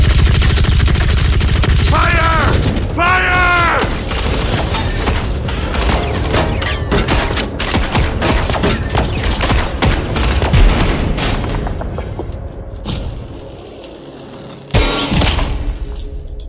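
Gunfire in The Callisto Protocol, sustained bursts of loud automatic shots and heavy impacts filling most of the scene, with a shout early on, then a brief lull and a final heavy blast.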